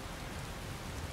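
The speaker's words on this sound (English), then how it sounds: "I know it's raining" Rain falling in the Skyrim video game, a steady, even hiss of drops on surfaces, soft and continuous without any voices.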